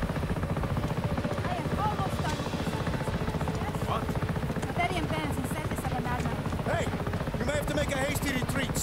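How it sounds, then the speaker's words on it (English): A helicopter in the Just Cause 3 video game thrums with a dense, steady rotor chop and engine whine throughout, loud and close, while characters shout over it amid game effects. "Guard the chopper!"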